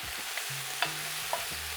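Okra, pumpkin and fresh seasoning stirred in a pot over a steady frying hiss, with a few quick utensil scrapes and clicks, close and moderately quiet.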